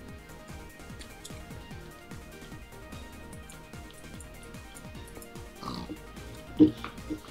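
Pig oinking in the Minecraft video game, short grunts repeating over steady game music, with a louder burst near the end.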